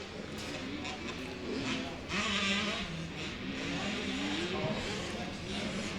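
KTM motocross bikes racing uphill at the 2014 AMA Arizona Open, their engines droning and revving at a distance beneath continuous race commentary.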